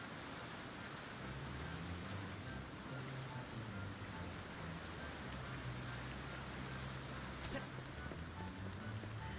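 A boat sails over ocean waves in Dragon Quest Builders 2, a steady wash of surf and water noise with a low rumbling undertone, continuous and even throughout.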